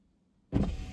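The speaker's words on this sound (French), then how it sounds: "il y a un bouton, j'appuie et puis je baisse la vitre" An electric power window lowers in a Mazda 6e, its motor whirring on abruptly halfway through and running steady and close after a quiet start.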